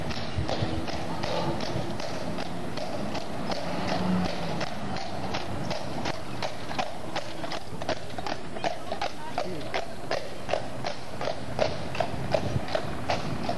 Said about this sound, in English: I hear another horse-drawn carriage coming up.